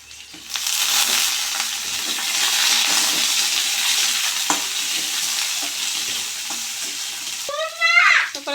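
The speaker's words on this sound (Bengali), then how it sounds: "রসুন ফোড়ন দিয়ে দিলাম" Garlic tempering sizzles and crackles steadily in hot oil for Malabar spinach, loud and continuous, with a few stirring knocks and a brief higher squeak near the end.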